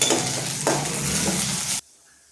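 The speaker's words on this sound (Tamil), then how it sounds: "கருவேப்பிலை போட்டுக்கிறேன்." Loud sizzle of curry leaves in hot oil with a couple of stirring scrapes, cutting off abruptly near the end.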